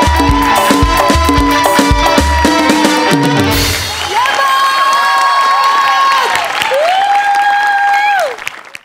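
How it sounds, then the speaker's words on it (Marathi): Loud applause and cheering from a live comedy show audience on the Maharashtrachi Hasya Jatra stage, a dense sustained roar that fades out near the end as music swells. "जोरदार टाळ्या"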